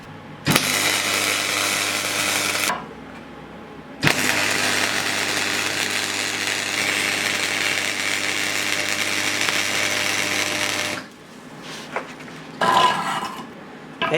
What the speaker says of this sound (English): we're ready to weld all the way around the outside and as far down around the bottom piece as we can